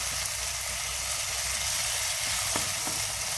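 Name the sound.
stir frying eggplant with egg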